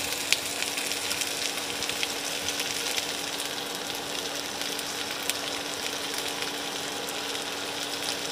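Onion and capsicum frying in oil in a pan give a steady, continuous sizzling hiss that runs evenly throughout at moderate volume, with no talking.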